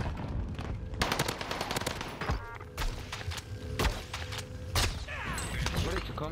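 Bursts of M13 rifle fire crack out in Call of Duty Warzone on Fortune's Keep, loud close shots in rapid clusters with scattered distant pops, and a player briefly speaks between them.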